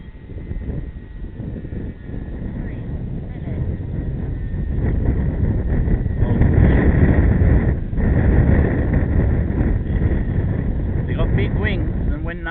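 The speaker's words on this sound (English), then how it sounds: "the wind's pretty strong" Strong gusty wind buffets the microphone at an outdoor model plane flying field, a loud continuous rumble that swells midway, with a faint distant motor hum and some speech underneath.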